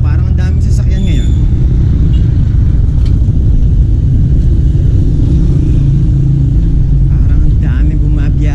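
Heavy road traffic rolls past, a loud, continuous rumble of many engines and tires, with a person talking over the din.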